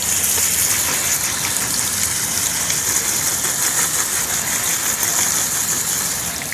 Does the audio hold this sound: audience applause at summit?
no